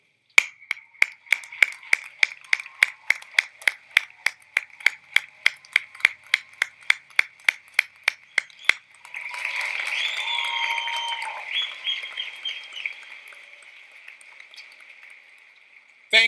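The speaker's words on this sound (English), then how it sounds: "give them a round of applause and appreciation" Graduates at the 2018 Salem State University undergraduate commencement clap in a steady, evenly spaced rhythm, then break into a louder wash of applause and cheering that gradually fades.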